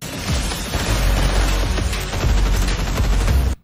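Rapid gunfire in the Fortnite Chapter 5 launch trailer: a loud, dense, continuous barrage of overlapping shots and impacts that runs unbroken for several seconds, with no talking.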